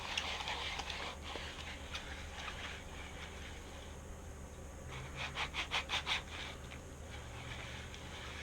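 A spinning fishing reel, freshly greased, grinds from leftover sand caught inside. Close, faint scratchy rasping turns in a loose rhythm, with a brief run of quicker scraping strokes near the end.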